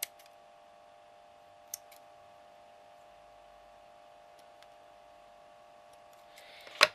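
Small snips of a blade trimming a tiny piece to fit a bead cap for a miniature candlestick: a few isolated, sharp clicks spaced seconds apart, the last one a little louder, over a steady low hum.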